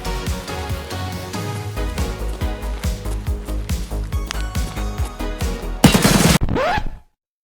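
Gunfire in a video game match on Shoreline: rapid repeated shots in bursts, loud and close, ending in a dense final volley before cutting off abruptly.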